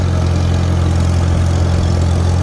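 A Farmall Super M-TA tractor engine idles at a steady low rumble, close and loud, with no voices over it.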